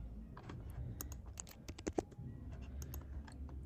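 Quiet, steady typing on a computer keyboard during Figma design work, with a Shift+A shortcut press among a run of soft, irregular key clicks and a couple of slightly louder taps near the middle.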